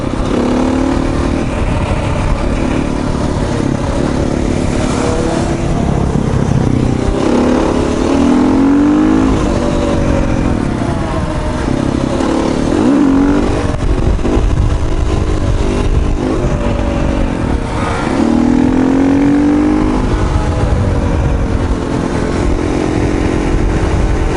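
A KTM 500 motorcycle engine that has lost compression revs loud and close, its pitch rising and falling in repeated surges without pause.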